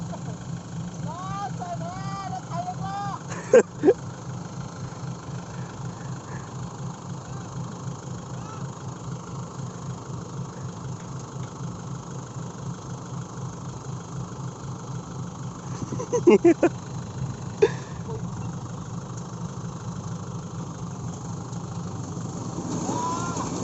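A tractor's mid-pitched engine chugs steadily throughout with a low pulsing rumble as it goes off the road, a few sharp knocks and clanks breaking in near the start and middle.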